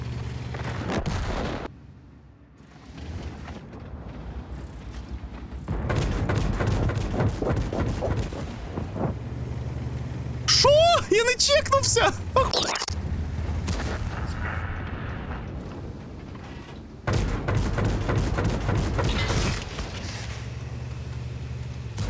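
Heavy tank cannon shots from an Ares 90 in an online tank battle game, with several loud, booming blasts spaced a few seconds apart, each with a ringing, reverberant tail over a low engine rumble.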